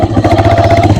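Motorcycle engine idling close by in a village, a steady loud low throb with rapid rhythmic firing pulses, heard alone.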